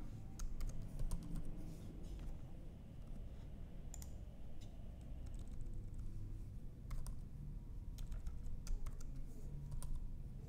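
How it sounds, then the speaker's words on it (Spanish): Someone types a name on a computer keyboard: close, quick clusters of light key clicks over a steady low room hum, with a few pauses between bursts. "Digitamos nuevamente nuestro nombre."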